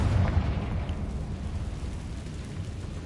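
A burst from the Confringo fire spell in the game Hogwarts Legacy: a sharp blast near the start, then a deep, rumbling low roar that fades slowly through the rest of the clip.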